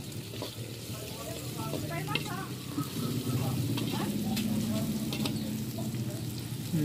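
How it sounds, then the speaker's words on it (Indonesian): Garlic and shallots sizzle steadily in a hot frying pan while being stirred, with a constant crackling hiss and occasional scraping clinks of the utensil, close and continuous throughout. "Kita aduk-aduk terus. Sampai bau bawang atau aroma bawang itu tercium agak harum."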